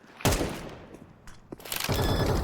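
Gunfire in the video game Counter-Strike 2: a sharp shot burst opens, scattered fainter cracks follow, then a heavier rapid volley of shots closes, with no voices over it.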